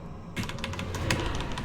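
Rapid keyboard clicks come from a computer during a Shadow Priest rotation on a target dummy, with a dense run of close, crisp keystrokes starting abruptly after a brief quiet moment.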